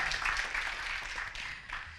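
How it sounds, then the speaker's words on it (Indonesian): Applause from an audience at a campus student orientation event, a quiet, steady wash of many hands clapping at a distance. It holds evenly for about two seconds. "tepuk tangan untuk buat Almilah"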